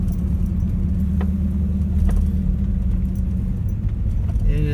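A 1971 Cadillac Eldorado convertible cruises along, its big engine giving a steady low rumble with road and wind noise, heard from inside the car without talk.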